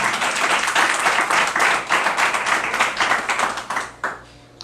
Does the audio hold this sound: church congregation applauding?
yes